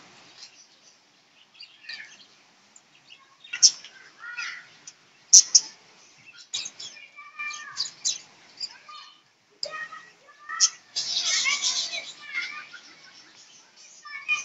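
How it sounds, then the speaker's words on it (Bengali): Several birds, including cockatiels and cockatoos, chirp and call in overlapping bursts, some harsh caw-like cries among brighter tweets, fairly close with quiet gaps between, at a deer park. "দেখো এখানে অনেক পাখি আছে।"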